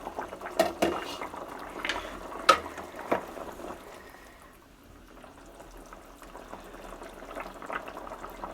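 Potatoes boiling for aloo dum in a pot just uncovered, a soft steady bubbling and simmer with a few sharper clinks and knocks of the lid and utensil early on, then a quieter continuous burble.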